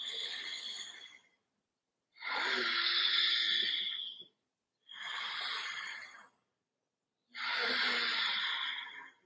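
Slow, deep breaths during a gentle yoga workout: four long airy exhales or inhales, close and clear, separated by short silences in a steady rhythm.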